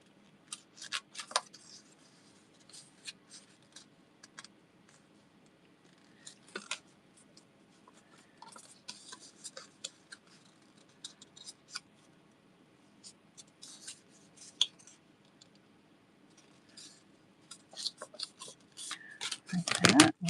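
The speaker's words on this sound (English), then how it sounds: "we're going to fold these pocket tabs over" Paper pocket tabs of a junk journal folio are folded and creased by hand, scattered quiet rustles and crinkles coming in bursts, with a louder paper scrape near the end.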